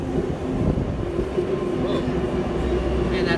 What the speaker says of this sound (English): Hornsby service is arriving into platform 4.